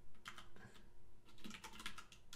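Keys clatter in quick irregular bursts on a Poker 3 RGB mechanical computer keyboard, close and fairly quiet, with short pauses between runs of strokes and no talking.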